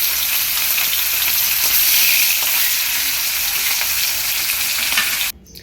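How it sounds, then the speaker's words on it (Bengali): Katla fish pieces fry in hot oil for Doi Katla, a loud, close, continuous sizzle and crackle with faint stirring ticks that drops away sharply at the very end. "আমার আর একটা মাছ ভাজতে বাকি আছে, সেটা আমি ঠিক এইভাবে ভেজে নেব"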